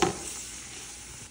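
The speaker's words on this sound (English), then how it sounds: "not much better smelling than sauteed onions and garlic" Onions, garlic and bacon sauteing in a pan give off a steady, close sizzle with a brief stir at the start, then a soft, even frying hiss.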